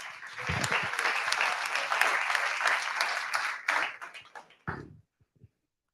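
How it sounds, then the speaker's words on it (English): A live audience at an awards evening breaks into dense, loud applause that holds for several seconds, then thins to a few scattered claps and fades to silence. "So give yourselves a round of applause for taking this on."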